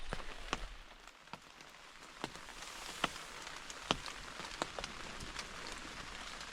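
Heavy rain patters on a leaky umbrella, a soft constant hiss broken by irregular sharp drip taps landing close by at a scattered pace, with no one speaking.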